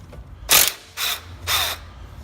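A ratchet with a 17 mm socket loosens a tie rod end nut on a first-generation Honda Insight, three quick bursts of close, sharp clicking with short pauses between them.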